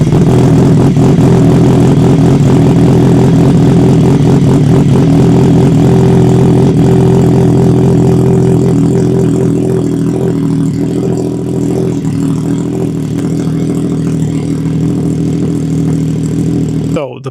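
A CFMOTO 675SS motorcycle fitted with a KO Lightning exhaust runs loud and close, with a deep, throbbing exhaust note that holds steady with slight rises and eases off toward the end.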